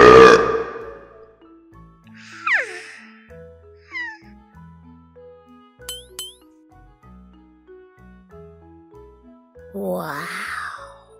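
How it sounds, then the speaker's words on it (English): A loud, drawn-out burp, followed by quieter scattered sounds and another rough, low belching noise near the end. "That burp was so loud."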